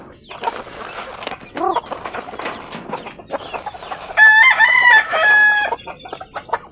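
Chickens in a small backyard coop at feeding time, with gold feeders set out: steady nearby clucking, a rooster crowing loudly near the middle, and scattered calls throughout, no talking.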